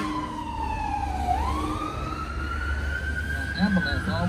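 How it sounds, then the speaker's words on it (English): An ambulance siren wails past in a sweeping tone that dips then climbs and holds, fairly close and loud over road rumble, with a brief voice near the end. "Ambulance always coming"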